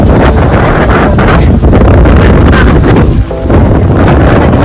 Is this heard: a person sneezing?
no